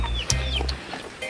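Cream Legbar chicks, young chickens in a new cage, give short close clucks and peeps with a few sharp calls over a low background hum.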